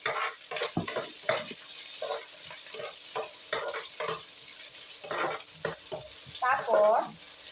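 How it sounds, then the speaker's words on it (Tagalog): Ginger sautés in a pan with a steady sizzle and bursts of stirring and utensil scrapes against the pan, close and moderately loud, with a brief voice-like squeal near the end. "Igisa-gisahin ko ang luya para lalabas yung katas niya."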